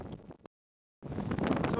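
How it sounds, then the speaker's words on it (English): Strong, very cold wind gusts near a mountain summit in the Lefka Ori, Crete, roar against the microphone, broken by a brief dead-silent gap before the buffeting resumes louder. "Terrible wind blowing, very very cold"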